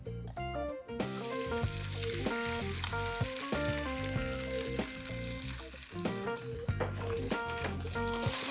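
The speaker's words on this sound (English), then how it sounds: "We're going to cook half of the meat. Oil. Wait for the oil to heat up a bit." Mongolian lamb sizzles steadily as it fries in hot oil in a pan, a constant crackle sitting beneath prominent melodic background music throughout.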